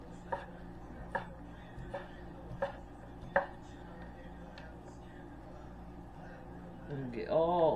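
A knife cubing corned beef on a cutting board, with about six sharp, evenly spaced chops over quiet room tone, followed by a brief murmur of voice at the end.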